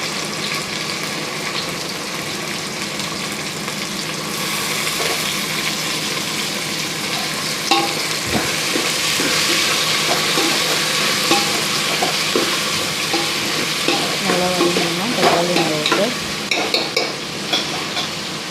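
Seeded, lengthwise-cut tomatoes sautéing in a pan, heard as a continuous close sizzle with scraping and clinking of stirring that grows busier toward the end, with no talking.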